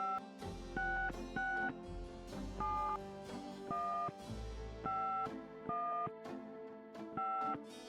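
A telephone number is dialed in the Gabriel Knight video game as a run of about a dozen touch-tone beeps in an uneven rhythm, with short pauses between groups of digits and no speech.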